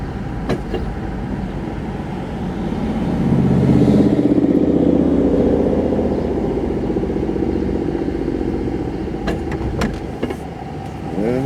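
A pickup truck engine running roughly, its low rumble swelling and sagging unevenly as it sputters, heard up close with no speech.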